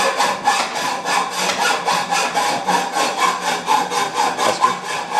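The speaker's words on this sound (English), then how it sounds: "This is TD taking down 27 inches of our frame with a hacksaw. Aluminum cut, not a big deal." A hacksaw cuts through an aluminum boat frame with steady back-and-forth strokes, about three or four per second, up close and fairly loud, with no voices.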